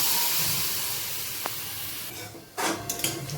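Hot pan of fried potatoes and vegetables hissing and steaming as dal with water is poured in, a broad sizzle that fades, then a sharp burst of bubbling and spattering near the end.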